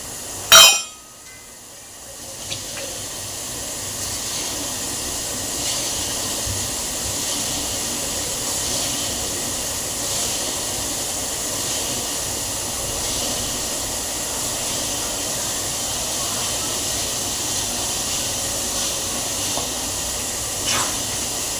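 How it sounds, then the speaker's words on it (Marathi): Vada pav masala with ground coriander and fennel sizzles in a pan while it is roasted and stirred, a steady close hiss with a sharp clink near the start and faint scrapes later. "मसाल्याला चांगला गोल्डन कलर येईपर्यंत मसाला भाजून घ्यायचा आहे। एकसारखा मसाला हलवत राहायचा आहे।"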